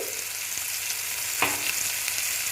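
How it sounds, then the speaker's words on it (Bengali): Katla fish frying in oil in a pan gives a steady, even sizzle throughout, with one brief clatter in the middle, and no voices. "একটু ভালো মতন ভেজে নেব"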